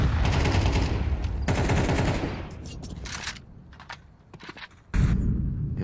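Counter-Strike gunfire during a professional PGL Masters Bucharest match: loud automatic bursts fill the first seconds, thin out into scattered shots, then a heavy burst returns at the end.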